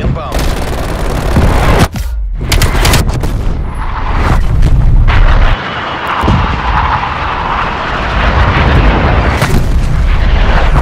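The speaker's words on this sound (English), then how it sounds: "Artillery inbound." Artillery strike explosions rain down in Call of Duty: Black Ops Cold War on the Nuketown map, loud heavy booms and rumbling blasts layered over droning aircraft noise, with brief dips between impacts.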